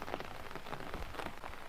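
Steady rain falls in a village, a dense, even hiss of drops spattering on surfaces, close and continuous without any talking.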